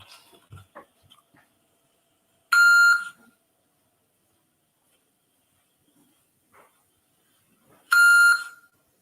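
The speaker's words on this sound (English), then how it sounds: "We just hear beeping now." Two loud electronic beeps, several seconds apart, come from a played-back recording of a phone call to a police department, with faint sounds between them and near silence otherwise.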